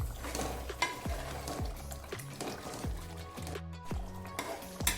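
Spoon stirring Delhi-style beef chop gravy in a pot, with repeated rhythmic scraping strokes about every half second over a soft, steady simmering sizzle.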